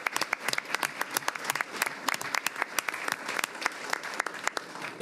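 Applause breaking out at a school board meeting: a crowd of hands clapping in quick irregular bursts, sharp individual claps standing out over a steady patter, fairly close and continuous.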